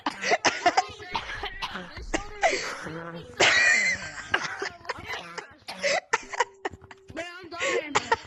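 In an online Gorilla Tag game, a player's harsh coughing fits come through a voice chat mic, close and loud, broken up by talking and bursts of laughter from others.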